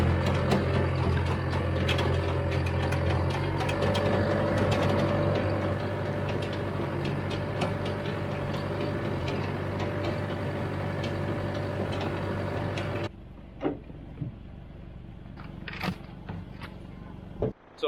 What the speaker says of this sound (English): Driving on some big, bumpy, frozen poops.